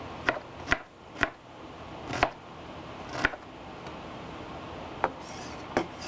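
A knife chops an onion on a cutting board for pineapple mango salsa, giving a run of sharp, close, distinct knocks at an uneven pace with short pauses in between.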